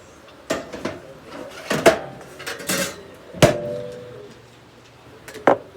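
A metal baking pan holding food is slid back into a home oven, giving a few sharp clanks and knocks of metal on oven racks spread across several seconds, close and fairly loud, with no talking.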